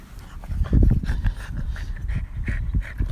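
A dog named Charlie pants quickly and rhythmically during play outside at a school, breathy close huffs with a few small whimpering noises mixed in.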